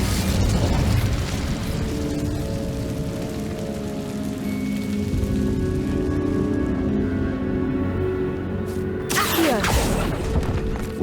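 Fire spell being cast in Hogwarts Legacy inside a catacomb tomb, a loud booming burst with roaring, crackling flame and rumble that fades and then swells again near the end, set against a continuous game soundscape.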